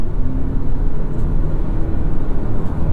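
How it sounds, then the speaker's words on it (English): A 2023 Toyota Prius Prime plug-in hybrid engine runs, giving a loud, steady low rumble and whir heard close and alone, with no talking. "Let me fire up this engine here."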